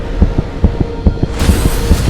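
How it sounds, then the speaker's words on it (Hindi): A fast, steady heartbeat effect in a Hindi TV drama, low dull thumps in quick paired rhythm over a humming background. "पापा के दिल की धड़कनें इतनी तेज।"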